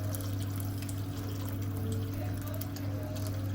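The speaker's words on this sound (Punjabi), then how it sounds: "ਆਪਾਂ ਤਿੰਨ ਗਲਾਸ ਪਾਣੀ ਪਾਇਆ ਸੀ ਗੁੜ ਦੇ ਵਿੱਚ" Water is poured into jaggery in a cooking pot, a steady trickling flow heard over a constant low hum.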